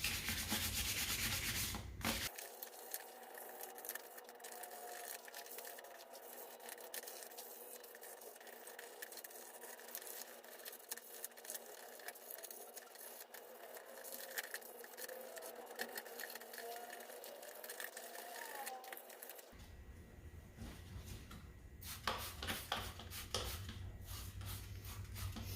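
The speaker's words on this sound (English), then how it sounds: "So I'm gonna kind of finish the scuffing job here" An older car wheel rim fitted with Firestone Firehawk tires is scuffed by hand with an abrasive pad, a close, steady rhythmic rubbing that continues for over twenty seconds without speech.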